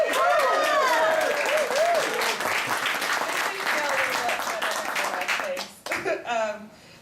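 A poetry reading audience bursts into loud cheering and sustained applause, with whoops and shouts over dense clapping that then fades and tapers off.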